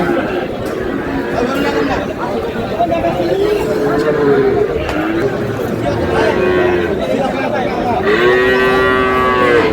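Several cattle moo loudly over a busy crowd of chattering voices at a livestock market in Dinajpur, with long drawn-out lows rising above the steady hubbub; Sahiwal bulls and calves on sale.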